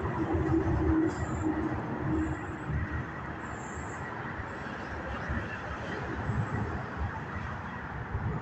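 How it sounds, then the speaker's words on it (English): A CSX northbound intermodal doublestack freight train passes with a steady broad rumble and wheel noise that holds at the same level throughout. Brief squeaks and faint sounds from onlookers come through over the rumble. "I think we got a train"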